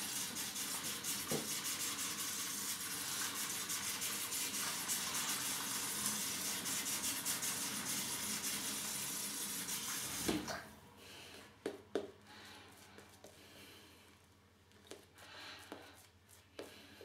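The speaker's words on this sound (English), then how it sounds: "Alright, let's add some water into here." Water runs steadily into a vessel while preparing a shave with a Gillette Silver Blue razor, a broad rushing hiss that stops abruptly, followed by a few close clinks and small handling sounds.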